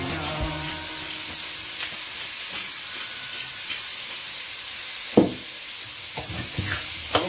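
Garlic sizzles in a pan with a steady, gentle frying hiss, broken by a few louder clicks and scrapes of stirring near the end, and no voices.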